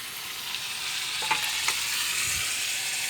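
Tomatoes are stirred into a hot frying pan, giving an even, close sizzle broken by a few sharp spoon scrapes partway through; no talking.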